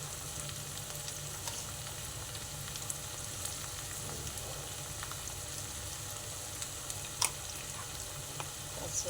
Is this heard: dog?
no